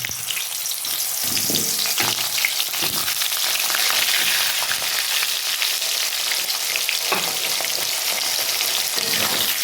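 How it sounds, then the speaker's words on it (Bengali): Thick-cut potatoes fry in oil with black cumin, a loud, continuous crackling sizzle with occasional stirring scrapes, close to the pan. "এখানে কেটে রাখা আলুগুলো আমি প্রথমে ভাজবো"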